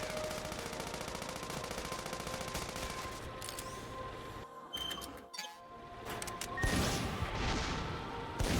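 Weapon fire in the video game Sand Land, rapid bursts of shots and metallic clatter running continuously, briefly dropping out before resuming with louder crashing impacts near the end.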